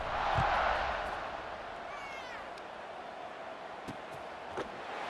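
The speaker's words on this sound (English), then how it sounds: "this crowd is buzzing after that last score" Stadium crowd buzzing in the video game College Football 26, a broad, steady roar of many voices that swells early and then settles to a continuous murmur, with faint isolated calls on top.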